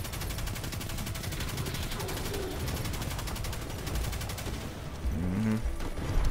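Gunfire in Destiny 2, a steady rapid stream of shots running through the whole stretch, moderately loud over game noise, with a few heavier bursts near the end.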